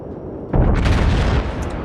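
Heavy naval gunfire from the Dunkerque battleship in World of Warships, a loud booming salvo that bursts in about halfway through and rolls on with a rumbling tail, no talking.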